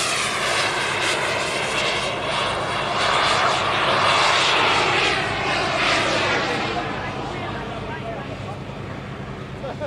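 A 22-foot radio-controlled model sailplane's engine drones steadily overhead at an airshow, a loud buzzing whine that rises and swells, then gradually fades as it passes into the distance.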